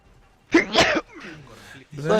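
A single sharp sneeze bursts out near and loud during a live wrestling video game stream, followed by a short stretch of quieter voice.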